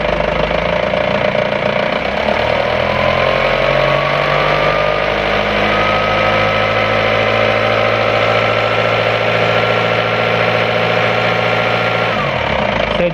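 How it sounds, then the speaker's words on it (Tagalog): Car engine revved during an alternator test on an alternator with a faulty IC regulator: a loud, close engine whose pitch climbs and holds high for several seconds, then drops sharply near the end. "So i-rev natin yung makina."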